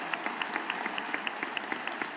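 Audience at a university commencement ceremony applauding steadily, a dense wash of many hands clapping at moderate distance throughout, with a faint voice underneath.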